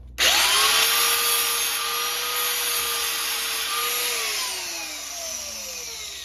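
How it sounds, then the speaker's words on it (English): A cutting wheel bites into hardened metal with a loud, sustained shrieking grind that starts abruptly, holds for several seconds, then winds down as the wheel slows. "this is a cutting wheel, but let's see how"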